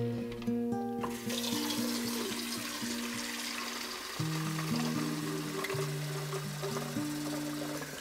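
A gallon of tap water pours and splashes steadily into a container for a smoked salmon brine, a continuous hiss of running water over a low, sustained musical hum.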